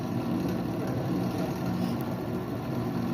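Steady engine hum from a vehicle idling at around 1600 rpm during an ignition system check, a continuous low drone with no voices.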